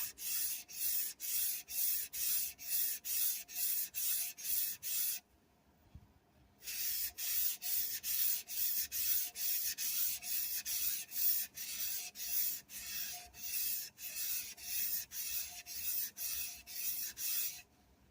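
A knife is honed on a 1000 grit vitrified diamond whetstone in steady, rhythmic back-and-forth scraping strokes, close and loud, pausing briefly around the middle before resuming at the same even pace.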